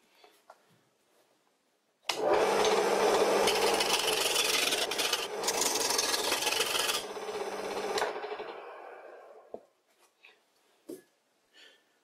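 A homemade wooden wood lathe spins too fast while a gouge scrapes the turning wood, giving a harsh, continuous rasping rub for several seconds that tapers off into a few faint knocks.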